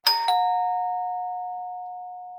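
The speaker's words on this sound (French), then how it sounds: "Faut que je sonne la sonnette" Outside a house in the woods, a pull-operated doorbell gives two quick strikes, then one clear ringing chime that fades slowly.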